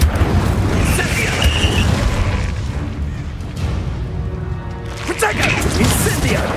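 The Incendio fire spell from the video game Hogwarts Legacy is cast in battle, bursting with loud whooshing booms at the start and again near the end, mixed with the dense roar of combat.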